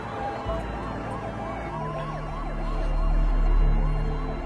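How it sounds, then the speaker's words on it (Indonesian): A wailing police siren sounds at a distance over low traffic rumble, its rising and falling tone repeating steadily and swelling slightly louder near the end. "dia mendengar sirine polisi dari kejauhan"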